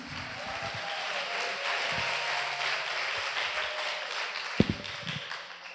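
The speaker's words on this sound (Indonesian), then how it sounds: "Tepuk tangannya dong buat Allah Yunus." Audience applause at an Islamic student discussion forum, a sustained wash of clapping from a crowd throughout, with a sharper clap near the end.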